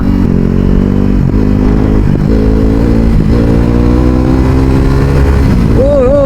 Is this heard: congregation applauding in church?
no